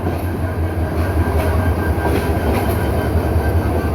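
The Mohanagar Express, running Dhaka to Chittagong, crosses the outer of Kamalapur station with a loud, close, steady roar of rolling rail cars and rhythmic wheel clatter.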